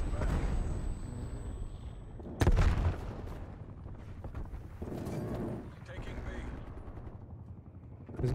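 A helicopter in the Call of Duty: Cold War video game churns as a constant broad rumble, with a sharp blast partway through and scattered gunfire, while players talk over it.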